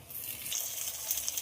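Chopped tomato hits hot oil with fried onions and sizzles, a steady bright crackle with faint stirring scrapes, close and moderately quiet, with no talking.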